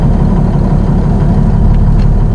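A 1985 Peterbilt 359 truck engine runs at a steady idle, its deep low rumble loud, close and unbroken throughout.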